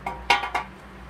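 Two or three short hard clunks and clinks, close and fairly sharp, as a wooden Mini Plus beehive part is set down on its lid, with a quiet hum in the background.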